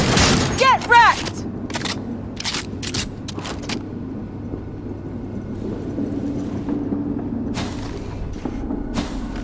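A minigun fires in rapid bursts during a Cyberpunk 2077 firefight, sharp repeated blasts at the start and again toward the end among game combat noise, with voices speaking in between.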